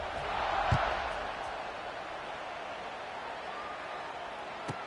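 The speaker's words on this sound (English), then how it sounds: "this crowd is buzzing after that last score." A football stadium crowd buzzes after a score at a Texas A&M versus Illinois game, a distant, sustained roar with a brief swell of cheering near the start and a play-by-play voice over it.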